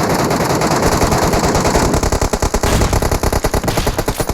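Automatic weapon fire in the mobile battle royale game PUBG Mobile, loud and close: a sustained burst, then rapid rhythmic repeated shots filling the whole passage.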